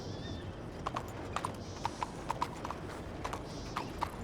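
Horse hooves clip-clop in a steady, fairly close rhythm of sharp knocks on a road in Red Dead Redemption 2, heard alone over a soft outdoor ambience with a faint high whistle early on.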